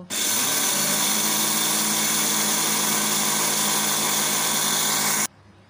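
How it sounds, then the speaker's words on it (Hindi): A loud, continuous motor whir of a blender jar grinding sugar, running steadily for about five seconds, then cutting off abruptly. "पिसी शुगर नहीं है तो मैं अपने ब्लेंडर जार में इसको पीस ले रही हूँ"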